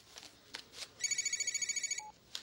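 A telephone bell rings once in a rapid, trilling burst of about a second, with quiet rustling and handling sounds before and after.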